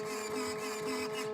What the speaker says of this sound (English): Why is the servo sound underpowered?